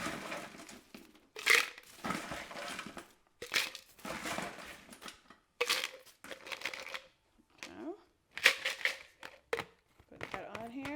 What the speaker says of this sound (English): we're gonna do about 3 scoops of ice